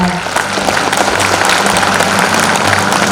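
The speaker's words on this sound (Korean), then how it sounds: "다시 한번 큰 박수 보내주시기 바랍니다." A large audience at a Gwangju city award ceremony claps loudly and continuously, a dense, even wash of applause with faint background murmur beneath it.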